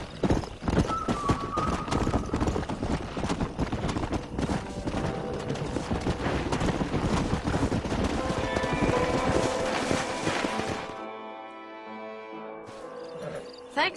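Steady clip-clopping horse hooves in Red Dead Redemption run over a busy game soundtrack with music, then it thins out and goes quiet near the end.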